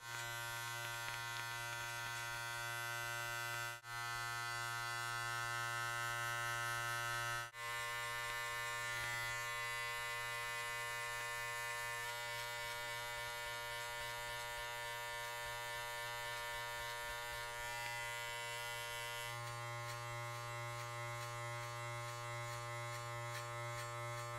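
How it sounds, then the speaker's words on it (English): An electric hair trimmer from a clipper set, used for a low fade self-haircut, hums with a steady high-pitched buzz throughout, close and continuous, with two very brief dips where it pauses or shifts against the head. "I'm going to use the trimmers again"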